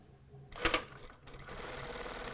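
A sewing machine top stitching a lapped zipper pocket on a vest, a short fast burst of needle clatter followed by steady whirring stitching, close and clear.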